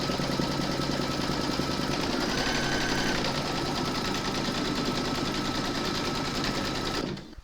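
Embroidery machine stitching a panty liner held in the hoop, a steady rapid mechanical needle chatter running continuously at close range, stopping abruptly near the end; no talking.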